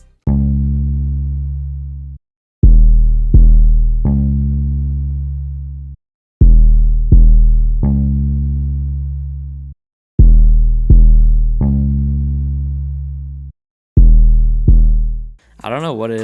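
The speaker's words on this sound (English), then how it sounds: "it starts off with this kind of bass, like almost a bass guitar, and then it drops into a lower 808." Deep bass notes from a chill beat made in FL Studio: a sustained bass-guitar-like tone drops into two shorter, lower 808 hits, the pattern repeating four times loudly and cleanly, with a brief bright sound at the very end.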